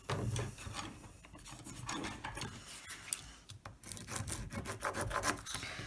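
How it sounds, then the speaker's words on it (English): Tape being burnished firmly into the grooves of textured card, a rapid series of dry rubbing and rasping strokes, close and fairly quiet, with no talk. "So I'm going to give it a good burnish into the wee grooves"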